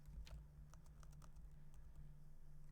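Rapid typing on a computer keyboard while entering code in a development environment, a quick irregular run of clicky keystrokes over a steady low hum, close and fairly quiet, with no talking.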